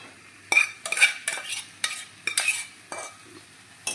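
Prawns and raw green banana are stirred together in a pan, a spoon scraping and turning the mixture in repeated bursts with a light sizzle underneath, close and fairly loud, with no talking.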